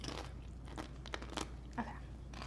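Crisp bites and crunches into a tortilla chip loaded with cottage cheese taco dip, a few sharp close crunches spread over a couple of seconds with no talking.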